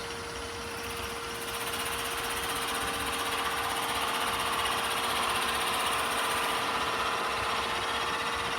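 A wood lathe turning a ring whirs with a steady, continuous motor hum and a high whine. The sound swells slightly as the cut begins and then holds constant at close range, with no voices.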